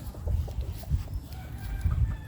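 Gilmore Red gamefowl rooster at a breeders' gameyard, clucking and calling in short repeated bursts against steady low farmyard background noise.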